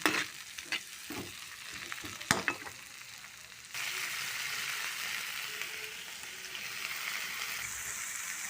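Tomato and bitter gourd sautéing in a pan with garlic, starting with a few sharp stirring clacks, then a quiet, steady sizzle that swells and holds to the end.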